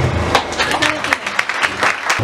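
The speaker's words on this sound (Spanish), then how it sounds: "Ahora vamos a recibir con un fuerte aplauso a nuestra presidenta" Audience at a youth party gathering in Dajabón applauds to welcome the party president, loud and close with uneven bursts of clapping, and crowd voices mixed through it.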